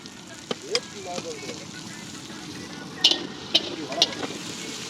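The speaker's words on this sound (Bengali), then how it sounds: "এখন কিন্তু মাংসটা কষানো চলছে" Meat sautéing in oil at an outdoor riverside picnic spot in Geonkhali, a steady close sizzle and crackle broken by several sharp taps and clatters of stirring, with faint wind in the background.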